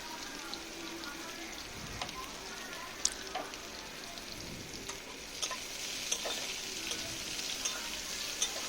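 Chopped onions and green chillies fry in oil in a pan, a soft continuous sizzle and crackle with faint stirring scrapes, fairly quiet and steady throughout.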